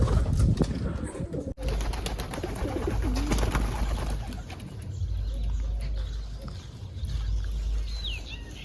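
A pigeon coos in low, rolling calls close by in a loft setup, amid rustling, a sharp knock and steady background hum.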